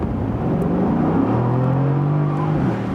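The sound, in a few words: Mercedes-AMG GT C Roadster engine accelerating in comfort mode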